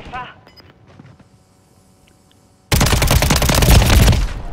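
Rapid automatic gunfire from Call of Duty Modern Warfare III ranked play erupts suddenly after a quiet stretch with faint earlier shots, then continues loud and dense, bursts overlapping to the end.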